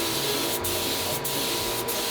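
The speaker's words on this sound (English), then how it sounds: "So I mixed up my 2 parts for my clear coat and sprayed it in my spray tint." An HVLP spray gun lays down two-part clear coat as a loud, steady hiss that dips briefly three times at short, regular intervals between passes, close up and with no talking.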